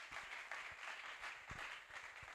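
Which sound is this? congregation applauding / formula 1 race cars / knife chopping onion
congregation applauding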